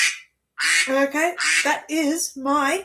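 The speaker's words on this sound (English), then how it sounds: "Yes, I have a duck as my phone" A mobile phone ringtone plays a duck quacking, a rapid series of five or six loud, close nasal quacks after a brief pause; a voice speaks over the start.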